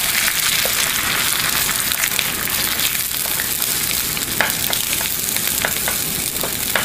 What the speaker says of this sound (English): I'm going to go ahead and scramble these. Make sure you get the pan hot.